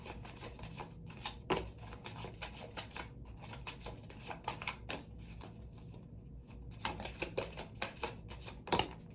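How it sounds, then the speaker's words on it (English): Tarot cards are shuffled by hand during a Sagittarius reading, a faint close run of rapid soft clicks and riffles with sharper snaps at moments, no talking. "I just love the way cards sound when they're shuffling"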